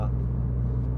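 Toyota GR86 fitted with an Akrapovic exhaust holding a steady 2000 RPM, a loud, continuous low engine drone with a deep exhaust rumble and no change in pitch.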